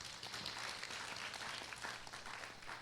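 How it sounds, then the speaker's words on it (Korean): A room full of people at a city council policy forum claps in a dense, steady wash of applause that carries on throughout, slightly distant and fairly soft. "박수 한번 쳐주세요"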